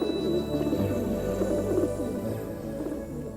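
A pigeon coos softly in low, throaty murmurs, faint and repeated against a quiet background.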